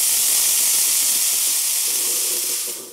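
The steam wand of a Decent Espresso DE1 machine gives a loud, continuous, dry hiss at close range, steady throughout and tapering off at the very end.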